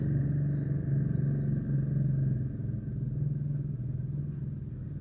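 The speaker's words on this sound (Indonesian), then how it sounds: "Ini ada motor nih." Traffic on a quiet city street, a motorcycle's low engine rumble passing at moderate distance under a steady background hum, fairly faint throughout.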